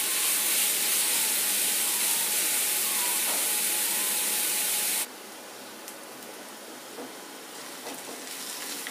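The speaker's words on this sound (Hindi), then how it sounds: "अब इसमें 2 बारीक कटे हुए प्याज डाल देंगे। अब इसे अच्छे से भून लेंगे।" Two finely chopped onions fry in a pan for a baingan aloo sabzi, giving a constant broadband sizzle and hiss. The sizzle drops abruptly to a softer crackle partway through.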